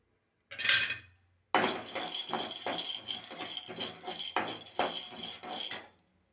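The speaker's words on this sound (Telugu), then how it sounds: "ఒక కడాయి పెట్టి ఆ కడాయిలో పల్లీలు వేసి వేయించుకోవాలి" Peanuts roasting in a kadai (wok) on the stove, a brief clatter followed by a run of rhythmic scraping and clinking strokes against the pan, close and moderately loud.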